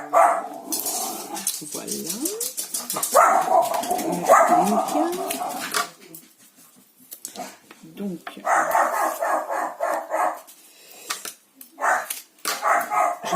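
A guard dog barks repeatedly in sharp bursts, fairly close, with a person speaking French between and over the barks, and birds or pigeons faintly in the background.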